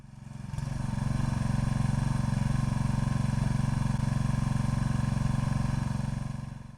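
Small 3.5 hp Briggs and Stratton engine on a hydraulic log splitter, running steadily with a fast even putter, close and constant for several seconds.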